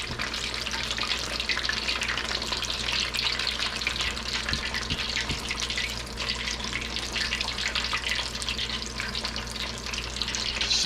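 Breaded chicken pieces, coated KFC-style, fry in hot oil with a steady, dense sizzle and hiss that holds evenly throughout, close and fairly loud.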